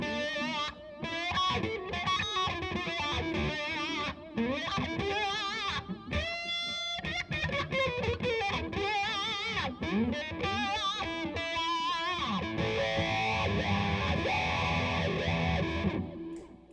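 Distorted electric guitar on the bridge pickup playing a fast, busy lead line with bends and chords, loud and continuous throughout, no voices.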